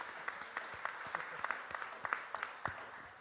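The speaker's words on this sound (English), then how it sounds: "Give my sister a round of applause" Audience at an education summit at Laney College claps, a faint, thin scatter of separate hand claps at a distance, fairly sparse rather than a full ovation.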